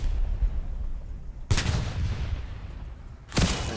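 Two heavy gun blasts from a Panzer IV tank fired at infantry in the WWII game Post Scriptum, spaced about two seconds apart, each a sharp loud crack with a long rumbling decay over low engine and battlefield noise.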